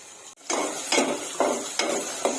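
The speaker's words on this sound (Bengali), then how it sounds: "নাড়াচাড়া করে দিচ্ছি।" Potatoes and chopped garlic frying in oil in a pan, stirred with a utensil in a few regular scraping strokes over a steady close sizzle, with no talking.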